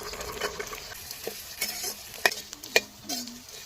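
Beetroot stirred in a pan with chillies, shallots, garlic, ginger and curry leaves for chutney: a soft, faint sizzle under a few quick spatula scrapes and taps, with no voice.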